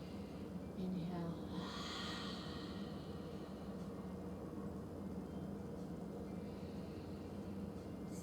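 Slow, audible yoga breathing during a vinyasa flow class: a soft, airy inhale and exhale, faint and close, over a steady background hiss.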